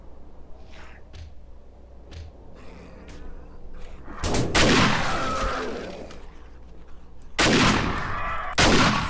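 Cannon fire in the video game 7 Days to Die: a few loud, heavy booming blasts burst out at irregular intervals over a quieter, rumbling background.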